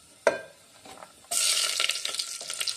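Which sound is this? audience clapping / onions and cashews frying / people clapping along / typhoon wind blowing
onions and cashews frying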